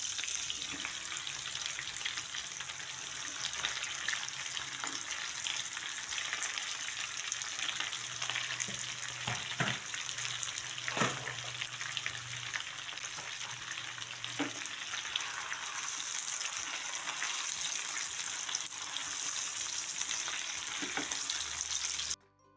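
Pak choy sizzles steadily in a hot pan for instant fried noodles (mie goreng nyemek), a continuous close frying hiss with a few soft clinks of stirring throughout.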